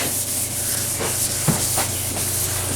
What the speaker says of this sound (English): the rest of the paint we're just kind of lightly sanding